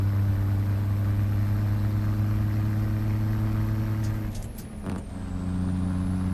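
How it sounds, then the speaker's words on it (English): Cummins 855 Big Cam diesel engine in a truck in American Truck Simulator, a loud steady low drone throughout, briefly dipping near the end with a hiss like an air brake release. "Truck sounds so good. I do like the 855 big cam."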